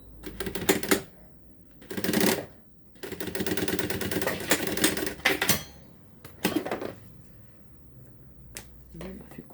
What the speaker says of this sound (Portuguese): E fazer uma costura de acabamento aqui.